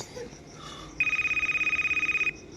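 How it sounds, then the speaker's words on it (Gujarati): A telephone rings on an outgoing call, a loud, fast electronic trill of evenly pulsed beeps lasting a little over a second against a quiet room. "ફોન કરો સનાભાઈને"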